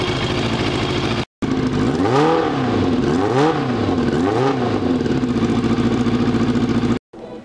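Yamaha FZR motorcycle engine during a run-up after restoration, idling close by with three rising-and-falling revs in quick succession, loud and throaty, briefly cut at the start and end.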